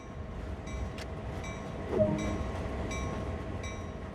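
A locomotive in the video game Train Sim World 2 runs under way, giving a steady low rumble and hum with faint tonal overtones that hold even and constant throughout, with no voices.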